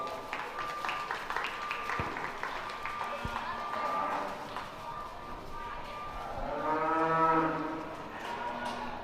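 Audience applause breaks out at a youth livestock show, a scattered patter of clapping in a hall, followed by a cow's loud drawn-out moo near the end.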